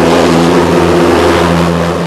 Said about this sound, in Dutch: Het is een gas, we voeren wat lucht toe en ik geef één keer een bougievonk en daar gaat hij.